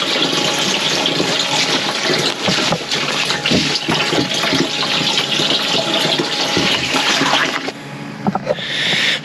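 A small pump pushes collected rainwater through a pipe at an off-grid cabin, making a steady, loud rushing and gushing flow that keeps going throughout and shifts slightly near the end.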